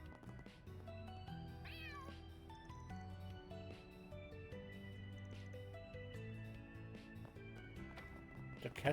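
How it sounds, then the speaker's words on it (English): A cat in the video game Trails Through Daybreak 2 meows several times in short, rising cries over a soft looping musical background, with a brief noise at the end. "What's a cat doing up here?"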